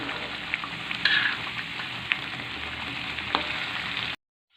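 Balado spice paste stir-fried in a pan for potato and tempeh, with a steady close sizzle and a few faint scrapes of a spatula, no voices.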